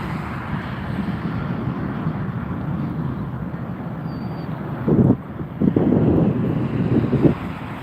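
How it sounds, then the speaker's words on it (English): A departing airliner rolls down a runway at Las Vegas airport, heard as a steady broadband roar mixed with wind buffeting on the microphone, with a few louder gusts near the end. "There goes the departure on the other runway."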